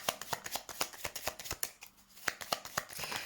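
Tarot cards riffled and shuffled in quick, crisp bursts of papery clicks, close and fairly loud, with a brief pause before a final few snaps as the last card is drawn and laid down.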